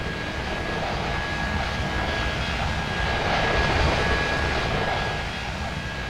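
Aircraft engine roar from an X-Plane 11 flight simulator as a plane takes off at Dubai, a steady broadband drone with a faint tonal whine, swelling slightly midway then easing, with no voices.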